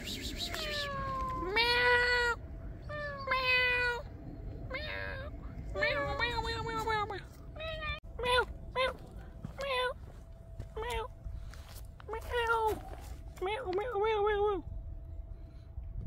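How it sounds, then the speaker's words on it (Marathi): A plump domestic cat out among trees in a Korean spring park meows repeatedly in a string of clear, drawn-out calls, some rising and wavering, close and loud over a steady low hum, with a few short bursts between. "सध्या मी इथं एक मांजर बघितलेला आहे. कसा हा गुबगुबीत मांजर आहे."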